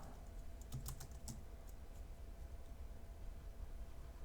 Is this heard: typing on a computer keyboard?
yes